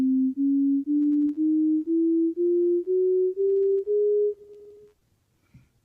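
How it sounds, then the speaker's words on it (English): An equal tempered chromatic scale of pure sine tones rises step by step, about nine evenly spaced beeps climbing in pitch, clean and alone, followed by near silence. "So this is what a equal tempered chromatic scale sounds like."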